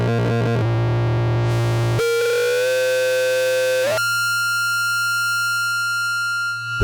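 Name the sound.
distortion-only feedback from synthesizer module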